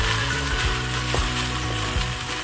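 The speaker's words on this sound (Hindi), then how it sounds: "अब इसमें हम डालेंगे चॉप किया हुआ टमाटर डाल देंगे।" Chopped tomatoes hit a hot, oily pan of masala for baingan bharta, setting off a loud, steady sizzle and crackle close by, with a few soft stirring knocks and no talking.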